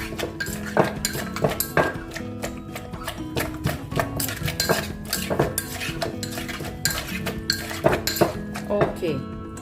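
Seafood papaya salad (som tam) tossed in a mortar makes rapid clinking and knocking of a utensil against the bowl, with constant busy rhythm and someone talking over it.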